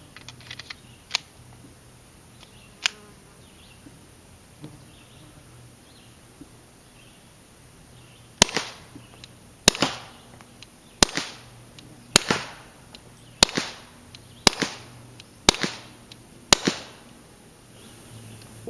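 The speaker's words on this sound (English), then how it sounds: "Now, we've got the same gun. We've added 1 milliliter of suppressor juice." Suppressed gunshots from a rifle with an effective suppressor and 1 ml of suppressor juice added, heard outdoors as a run of sharp, fairly quiet cracks, a few sparse shots first and then a steady series about one per second.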